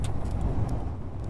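Vehicle driving through darkness in Space Engineers, a steady low rumbling engine drone with faint clinks on top, continuous and fairly close, no talk.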